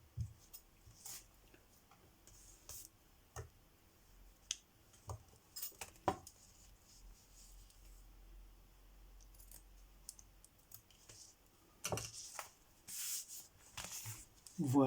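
Quiet, scattered snips and clicks of scissors cutting, irregular and close, with soft handling noises in between.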